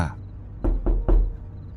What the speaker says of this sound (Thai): อาจารย์แกก็เคาะโต๊ะเรียกผม